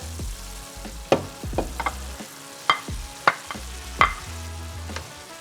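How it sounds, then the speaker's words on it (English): Zucchini is tipped into a pan of cooking meat for a five-cheese lasagna sauce, giving a steady close sizzle and fry broken by several scraping stirs of a utensil against the pan. "now that most of the liquid of the meat has consumed, we're gonna add our zucchini."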